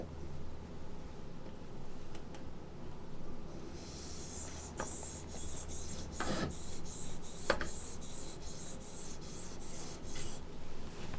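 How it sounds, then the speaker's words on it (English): A reed knife drawn across a finer sharpening stone under light pressure makes soft, steady rasping strokes, with a run of regular, evenly spaced scrapes in the second half, close and fairly quiet. "Now I'm going to polish it up with a finer stone."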